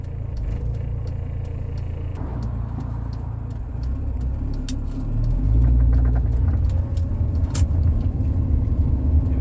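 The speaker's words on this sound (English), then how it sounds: "Definitely some sort of misfire going on at low RPMs." A Rover 45 with a CVT gearbox idles and rolls at low revs with an uneven, rumbling engine note, steady and close throughout with a few light clicks and ticks on top.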